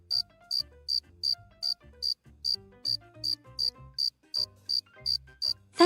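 A cricket in an animated children's story chirps about fourteen times in a clear, evenly spaced rhythm over soft background music.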